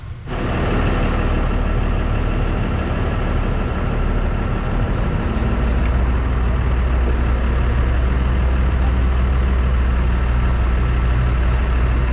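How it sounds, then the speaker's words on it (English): A Jeanneau 795 boat engine idles continuously, steady and loud, with a deep low rumble and constant drone throughout, no voices. "We got the engine running"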